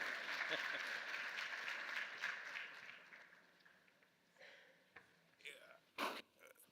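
Conference audience applauds at an opening session, clapping strong at first then fading out after a few seconds, leaving scattered quiet noises and a brief voice near the end.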